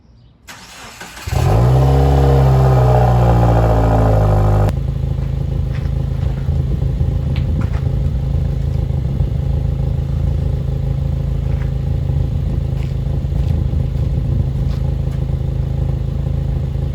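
A 2015+ Subaru WRX engine cranks and fires up loudly close by after exhaust gasket work, revs briefly, then settles into a steady, even idle that runs on alone.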